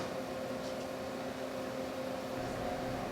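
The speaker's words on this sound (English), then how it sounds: "we got all the ingredients in the mixer" A mixer runs with pretzel dough at a bakery, a steady mechanical hum and whir with no talk over it.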